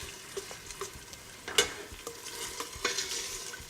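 Tomato paste fries in oil in a pan while a spoon stirs it, soft sizzling beneath intermittent scrapes and light taps, close and fairly quiet.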